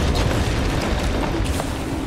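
A deep, booming explosion goes off in the Pacific Drive video game, loud and rumbling as it fills the whole short stretch without voices.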